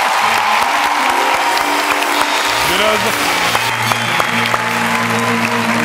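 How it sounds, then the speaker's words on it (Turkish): Studio audience applause for actor Erkan Petekkaya fills the room, a loud, steady wash of clapping with some cheering, while voices talk over it. "Erkan Petekkaya alkışlar."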